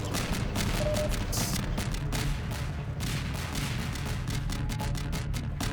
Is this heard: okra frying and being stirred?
no